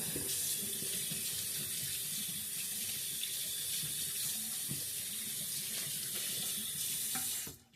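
Hands are rinsed clean of a messy hair treatment under a running tap, the water splashing steadily into the sink close up, alone, until it shuts off at the end.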